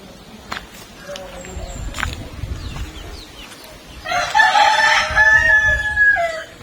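Backyard chickens cluck and mill about, then a rooster lets out a loud, drawn-out crow close by, with a person talking faintly in the background.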